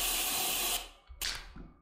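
A spray paint can hisses in the video game Lethal Company, one long loud spray followed by two shorter bursts, close and alone.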